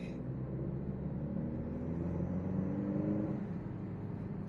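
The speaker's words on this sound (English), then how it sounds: "I kind of wish it opened up a little bit more for the sound of the engine in dynamic mode at least." A 2024 Alfa Romeo Stelvio Ti with a turbocharged engine hums at a low, steady pitch from inside the cabin while driving, a muted, even rumble with little change in revs.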